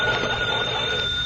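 An old crank telephone bell rings continuously in a short, loud, rattling burst, with a steady high tone over the clatter.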